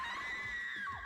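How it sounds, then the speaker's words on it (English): Enemies in the video game Tokyo Mirage Sessions #FE Encore let out a loud, sustained high-pitched scream that wavers and drops at the end, with faint game sounds beneath. "They scream so loud."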